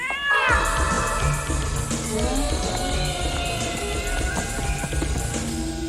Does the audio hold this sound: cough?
no